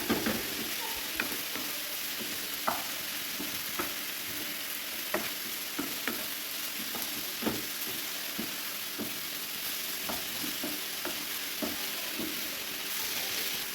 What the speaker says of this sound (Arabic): غير كتقلى لينا شويه البصله مع الثومه كنضيفوا عليها الدجاج